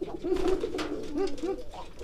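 A racing pigeon coos close by in several rolling, throaty calls with short gaps between them.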